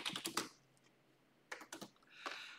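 Quiet bursts of computer keyboard typing come in three short clusters of rapid clicks, separated by near silence.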